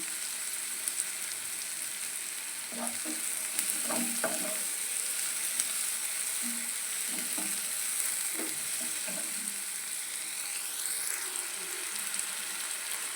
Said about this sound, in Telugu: ఇప్పుడు అదే ఆయిల్లో ఉల్లిపాయ అంతా బ్రౌన్ కలర్ వచ్చినంత వరకు మనం వేసుకున్నాము